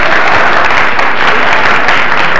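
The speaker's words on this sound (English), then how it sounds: "They both deserve rounds of applause" Loud, close studio audience applause on a 1990 heritage quiz show after the first round, a continuous wash of many hands clapping with no speech over it.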